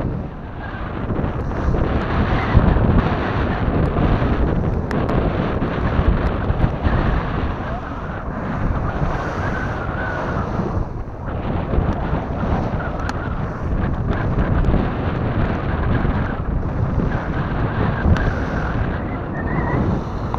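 Strong wind buffets a small fishing boat on the open sea, a loud continuous roar and rumble of gusts hitting the microphone, mixed with wave wash and hull noise, steady over the whole stretch without clear talk.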